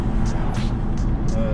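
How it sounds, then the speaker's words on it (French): A large Renault car drives past on the road, a loud continuous low rumble of engine and tyre noise close by, with a few faint higher tones over the top. "On va le laisser passer lui avec son immense Renault."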